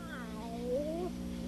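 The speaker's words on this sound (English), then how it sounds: "Why, it's a cat." A cat from a retro Halloween program meows once in a rising, drawn-out call, sounding close and clear over a steady low background hum.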